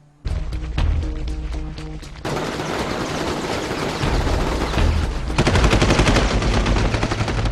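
Automatic machine gun fire in the video game Infamous: rapid bursts of loud shots, a sparse rattle at first, then dense, sustained volleys mixed with booms and crashes, growing heavier toward the end.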